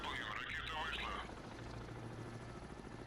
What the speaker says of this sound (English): I'm gonna surface and kill these helicopters real quick